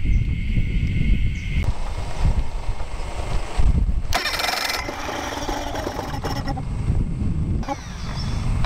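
A small Mercury outboard motor cranks and sputters, catching unevenly in rough bursts, with wind buffeting the microphone and water noise around it.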